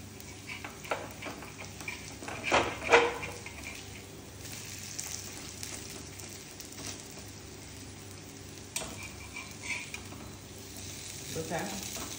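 Banana flower vadis fry on an iron tawa with a soft, steady sizzle. A few light scrapes and taps sound around the middle, and the frying stays quiet throughout.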